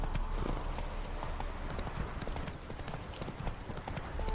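Roach the horse galloping in The Witcher 3, a dense, continuous drum of hoofbeats heard close and fairly loud with a steady driving rhythm throughout.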